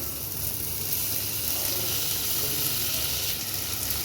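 Diced potatoes sizzle in a pan for aloo poha, a soft steady hissing fry that holds evenly over a few seconds with low background rumble.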